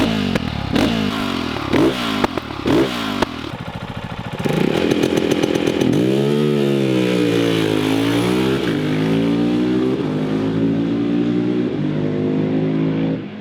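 A KTM 690 SMC-R motorcycle exhaust barks through quick throttle blips and crackles, then holds a loud, rising and falling rev for several seconds, close and raw.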